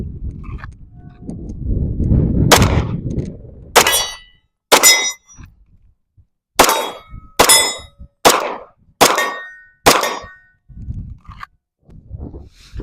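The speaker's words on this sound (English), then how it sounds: "Just drop it a few times, just basic generic stuff." Ohhunt RD U2 red dot sight dropped repeatedly onto a hard surface, giving about eight sharp metallic clanks with brief ringing, spaced roughly a second apart, after an initial stretch of low rumbling noise.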